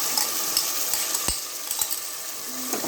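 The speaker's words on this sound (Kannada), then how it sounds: "ಹಸಿ ವಾಸನೆ ಹೋಗುವವರೆಗೂ ಚೆನ್ನಾಗಿ ಹುರಿಯಬೇಕು" Spice paste frying and sizzling in a pan for chicken biryani, a steady close hiss broken by a few soft scrapes and taps of the stirring spoon.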